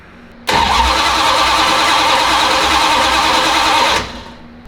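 Dodge Dart car engine cranking and catching, then running at a loud, steady roar for several seconds before dropping away abruptly, heard up close.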